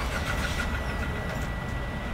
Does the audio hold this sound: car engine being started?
yes